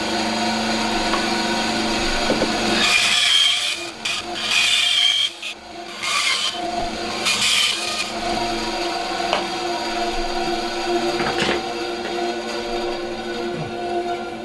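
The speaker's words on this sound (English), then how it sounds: "A first nice straight joint cut on the bandsaw." A bandsaw cuts a straight joint in marked-out wood, its motor humming steadily while the blade's cutting noise swells and fades in a few bursts, close and loud.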